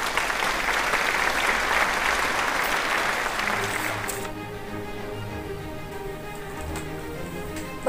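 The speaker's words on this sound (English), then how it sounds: "Let us give them a round of applause" Round of applause from an audience at a school debate event, steady dense clapping for about four seconds before tapering off into quieter room sounds and scattered noise.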